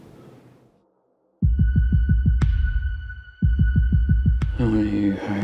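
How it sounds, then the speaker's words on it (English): A loud, regular thudding pulse like a heartbeat throbs in two runs of about eight beats each, with sharp tonal stings and rising chords over it, preceded by brief talk. "Can I listen to your heartbeat?"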